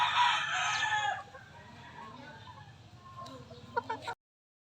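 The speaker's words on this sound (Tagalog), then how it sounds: "At yun po yung mga manok natin na 2 months old, 3 months old, saka 5 months old" A rooster crows loudly and close, followed by softer clucking from several chickens and a few scattered knocks.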